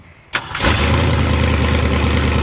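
A Ford Maverick with a vacuum leak and an exhaust leak cranks briefly, fires and catches, then settles into a loud, steady idle close by.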